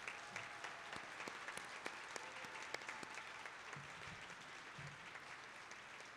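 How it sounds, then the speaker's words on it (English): Steady, moderately distant audience applause rolls through a commencement ceremony for a graduating class, with distinct individual claps popping out over the crowd's clapping and no speech. "Let's have one more round of applause for the graduating class of 2021."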